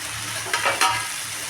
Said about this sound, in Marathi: आपले कांदा टोमॅटो कोथिंबीर कडीपत्ता छान परतून झालेला आहे